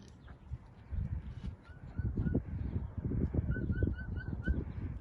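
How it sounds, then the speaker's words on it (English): Small emu on a family farm giving a series of soft, short chirps, a few at first and then a quicker run of five, moderately close over rustling and handling noise. "The chirping sound you hear is coming from the smaller of the emus down here."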